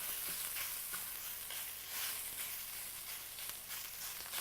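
Italian sausage browning in a frying pan, a steady soft sizzle with faint crackles throughout, quiet and even with no talking.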